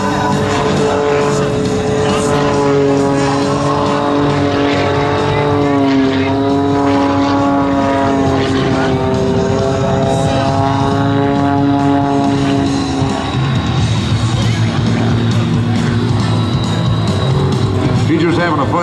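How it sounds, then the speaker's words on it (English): Aerobatic airplane with a lightweight steel tube fuselage and a Lycoming 540 cubic inch engine performing at an air show, a loud, sustained propeller drone whose pitch slowly rises and falls, with a commentator talking over it. "very lightweight, high horsepower, top speed about 230 miles an hour with the Lycoming 540 cubic inch engine and a steel tube fuselage"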